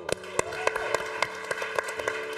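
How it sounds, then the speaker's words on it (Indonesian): A talk-show studio audience gives scattered, rhythmic claps, sharp individual hits over a steady tonal background. "Tepuk tangan aja."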